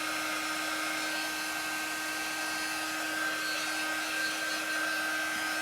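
A hair dryer runs steadily over a chalk art project, a constant high-pitched whine with an airy rush, close by and unchanging throughout.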